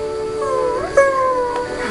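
Sad Dalmatian puppies whimpering and howling in a Kingdom Hearts game room, several thin, wavering cries rising and falling over each other, close and clear against a quiet background.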